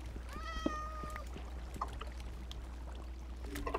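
A cat meows in a Minecraft-style survival multiplayer game, a clear harmonic call rising and holding for about a second, followed by sparse game clicks and faint background ambience.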